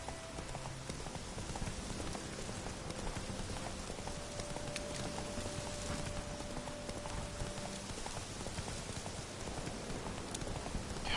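A horse's hooves clip-clop in a steady rhythm in the video game The Witcher 3: Wild Hunt, with a soft patter of rain behind them and no speech.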